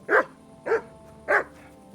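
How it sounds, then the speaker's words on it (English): A dog barks in Kingdom Come: Deliverance 2, three evenly spaced gruff woofs with a fainter fourth at the end, close and clear over a quiet background. "That mangy mutt."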